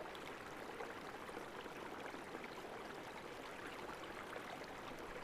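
River water rushing down rocky cascades, a steady broadband wash of flowing stream with no breaks, faint and even throughout.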